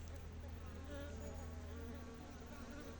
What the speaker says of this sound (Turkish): Kendini temizleyen bir arıyla karşınızdayız şu anda.